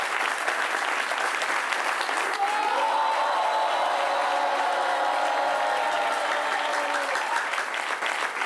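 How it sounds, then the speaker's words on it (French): Studio audience of a talk show gives loud, sustained applause with some cheering while guests are welcomed, and music swells underneath midway. "On les applaudit très fort."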